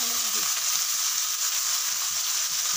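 Spices, onion and garlic fry in hot oil, a loud, dense, continuous sizzle heard up close with no voices over it.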